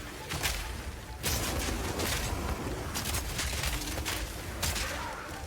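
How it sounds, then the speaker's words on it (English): A Mortar Cannon in the video game Path of Exile 2 firing grenades. It produces loud, repeated explosive bursts and booms in uneven bursts, one after another, over a dense, rumbling battle background. "using it will summon a cannon which loads and then fires the grenade you choose"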